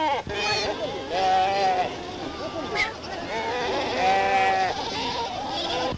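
Several sheep bleat repeatedly at close range on a Berber rural setting, overlapping wavering cries over a background murmur of voices.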